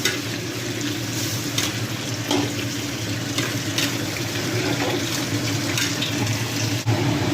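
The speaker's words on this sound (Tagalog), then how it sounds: "maglagay na tayo ng sabaw" Broth poured into a cooking pot for misua soup with dried fish, a continuous close watery rush and splash with a few clinks along the way, no talking.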